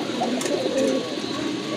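A pair of blue Rajgolla pigeons coo up close, a soft, low, throaty burble that swells briefly and then eases against a quiet background.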